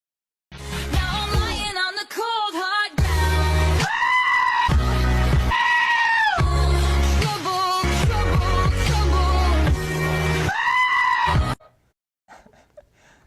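A goat choir bleats and screams through a rendition of a popular song. Loud, pitched bleats form a repeating melodic pattern over a backing track, then stop abruptly near the end.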